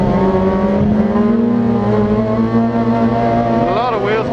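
A Fiat race car accelerates with its wheels spinning, a loud, close engine tone climbing steadily with a strained, wavering whine, under continuous race commentary.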